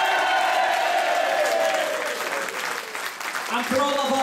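An audience at a Liverpool folk concert cheers and applauds, a dense wash of clapping and crowd noise with a voice carrying over it toward the end.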